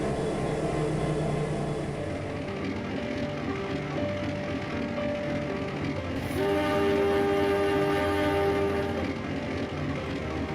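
A coal train, KA 3038, pulls away from Kota Baru station in Indonesia. Its rumbling wagons roll steadily throughout, and a sustained horn blast comes in partway through and holds to the end.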